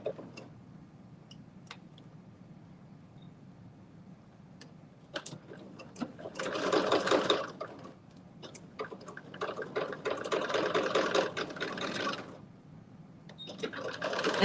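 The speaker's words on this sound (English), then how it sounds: "Sewing my edge stitch." Sewing machine running in two bursts, stitching an edge seam on a fanny pack, with steady rapid mechanical ticking at close range after a quiet stretch and a few isolated clicks.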